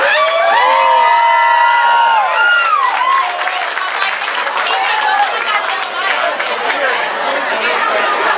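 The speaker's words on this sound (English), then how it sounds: "So let's give a round of applause." A pub crowd at a St. Baldrick's head-shaving fundraiser at the Hibernian Restaurant & Pub cheers and whoops loudly, with shrill shouts at first, then settles into steady clapping and chatter throughout.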